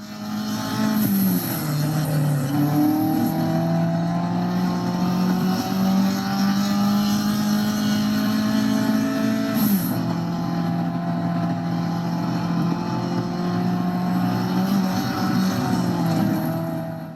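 A racing video game car engine drones steadily at a high, buzzing pitch, shifting gears partway through with a brief dip and recovery, continuous and moderately loud with no talk.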